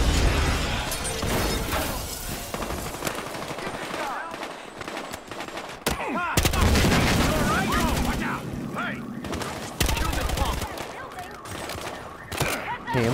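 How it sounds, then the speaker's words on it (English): Rapid automatic gunfire from the Battlefield Hardline video game, dense bursts and loud shots packed throughout, layered over game effects with voices talking intermittently. "Hey, I'm shooting anything that moves here."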